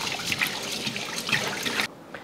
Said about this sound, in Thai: แล้วก็เทน้ำทิ้งเลย